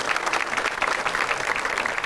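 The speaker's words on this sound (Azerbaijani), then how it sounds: "Bu gözəl insanı gürültü alqışlayaq" A studio audience at a comedy show claps together in an even, rhythmic burst of applause, close and full for about two seconds.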